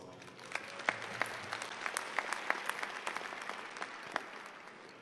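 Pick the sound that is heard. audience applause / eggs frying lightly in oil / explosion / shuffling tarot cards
audience applause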